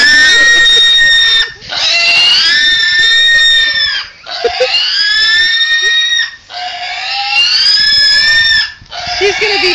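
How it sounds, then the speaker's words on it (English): A pig screams loudly and repeatedly at close range, long shrill squeals separated by brief gaps. "neighborhood's about to hear the pig scream"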